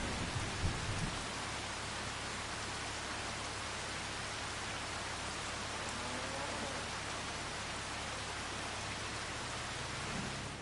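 Steady rain pours in the video game Farming Simulator 25, a dense, even hiss that holds for about ten seconds with a faint low rumble underneath and no voices.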